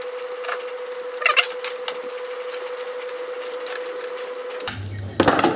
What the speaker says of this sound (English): I'm just going to have to cut it with my jigsaw